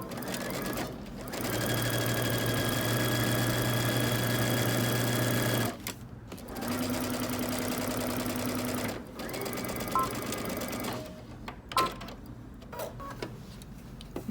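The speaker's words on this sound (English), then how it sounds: "starting at the hem, you're going to back stitch" A sewing machine back stitching along a jacket hem runs in two long steady bursts with a short pause between them, then gives way to quieter handling and rustling of fabric.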